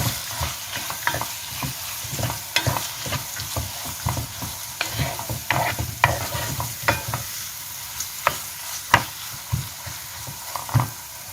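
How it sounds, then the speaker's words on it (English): Ingredients for Iranian gheimeh stew frying in a pan, a steady sizzle broken by repeated scraping clicks of a spoon stirring, close and fairly loud, with no voices. "And fry again for some minutes"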